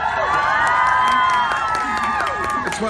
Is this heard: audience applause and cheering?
yes